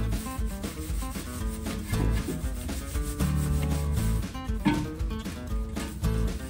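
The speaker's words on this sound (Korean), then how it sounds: "요렇게 데이토나 같은 걸로 슥슥 닦아주시고요" A Daytona wheel brush scrubs a car wheel in steady, close rubbing strokes that run continuously through the whole stretch.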